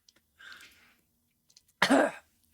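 During a Vampire: The Masquerade tabletop roleplaying session, a voice imitates a character coughing: a soft breathy rasp, a pause, then one sharp, close cough burst.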